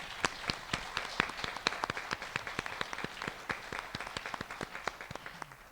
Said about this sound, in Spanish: les pediría el aplauso realmente pues para todos ellos